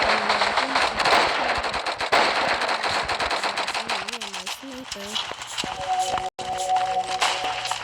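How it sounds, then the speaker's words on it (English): Rapid shotgun blasts from the sakura shotgun in the video game Flag Wars, firing in a dense, loud burst over game music and effects, with a voice talking over part of it. "The sakura shotgun."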